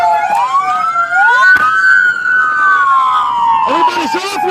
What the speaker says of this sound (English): Everybody kill your sirens.